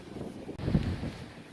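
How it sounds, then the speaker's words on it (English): Strong outdoor wind buffets the microphone near a large HVAC unit on a very windy day, a low rumbling roar that swells and fades unevenly. "I'm sure you can hear the wind out here"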